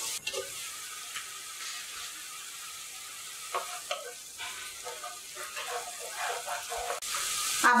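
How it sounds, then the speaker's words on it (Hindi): Onions are sautéed on low heat while a spoon stirs them continuously, giving a soft, steady sizzle broken by intermittent scraping strokes that grow louder toward the end. "अब हम प्याज को हल्की गैस पर लगातार चलाते हुए भूनेंगे।"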